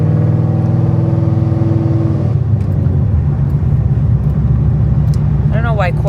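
Engine of a Corvette hardtop convertible running as it is driven, a loud, steady low rumble with a pitch shift partway through and a brief higher squeal near the end.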